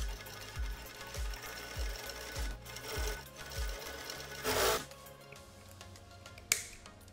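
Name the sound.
sewing machine stitching a retro bikini top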